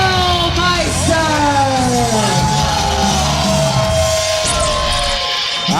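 Professional wrestling crowd at a live indoor independent show in Miami, Florida, cheering loudly and continuously for a metalhead wrestler, with yells and whoops over a dense roar and some shouting voices mixed in.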